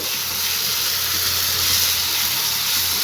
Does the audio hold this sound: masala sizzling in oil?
yes